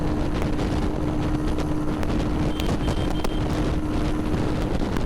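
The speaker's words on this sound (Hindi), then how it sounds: "तो let's see guys fourth gear में कितना जाती है।" TVS Raider 125 motorcycle riding in fourth gear, a steady engine drone blended with heavy wind rush across the microphone, continuous and close throughout with no talking.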